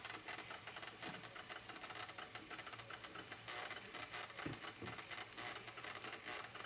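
An electric mixer whirs continuously at low speed through pecan pie filling, a steady mechanical hum with a fast rattling texture, close and unbroken, with a couple of soft knocks.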